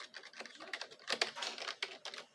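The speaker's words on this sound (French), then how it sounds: "Ah ben regardez, quand je pèse sur le clavier" Computer keyboard keys pressed in quick, irregular bursts of clicky taps, some louder clusters near the middle, heard close in a quiet room with no talking.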